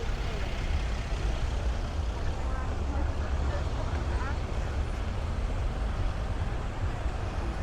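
Slow-moving cars and trucks crawl through busy weekend traffic along Blackpool's South Shore at night, a steady low engine rumble and road noise with faint hiss, continuous throughout with no clear breaks.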